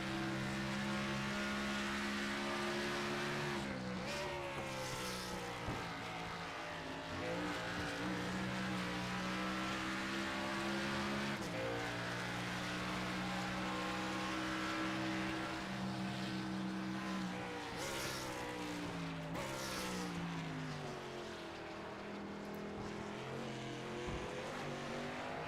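Race cars lapping the Charlotte Roval in a sim racing game, engines droning and shifting pitch as they accelerate and brake through corners, a continuous loud roar with cars passing close by.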